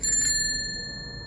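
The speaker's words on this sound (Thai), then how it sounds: "เสียงกระดิ่งสุดท้ายดังขึ้นจากท้ายรถ" A single bright ring of a small bell, like a bicycle bell, sounds close and clear, then its tone fades away.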